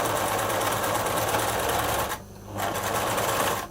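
A sewing machine stitches a dart in a sun dress with a steady, close mechanical whir, pausing briefly partway through before running on.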